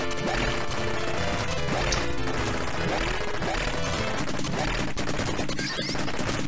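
Arcade shoot-'em-up Senjō no Ōkami (1985) plays rapid bursts of gunfire and explosions over busy game music, a loud, continuous barrage of sharp crackling hits.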